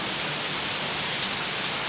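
Steady, dense rain falling heavily and close by, a continuous hiss of drops on surfaces with no other sounds.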